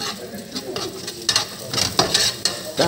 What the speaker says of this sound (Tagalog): Dito kakusina ay inuna ko munang lutuin ang itlog